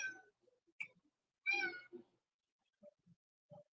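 A house cat meows several times in short separate calls, fairly close and clear, with quiet gaps between them and no talking.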